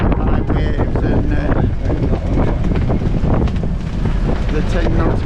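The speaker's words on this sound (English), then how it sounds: "It's a really windy day" Strong wind buffeting the microphone with a steady roaring rumble, loud and continuous, over choppy high-wave water sounds outdoors on a cruise ship.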